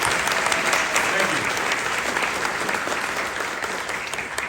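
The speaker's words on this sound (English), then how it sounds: "Clap it up for all our youth" An audience at a literary competition awards ceremony applauds the youth competitors with steady, full clapping that fades slightly toward the end, with a voice briefly audible under it.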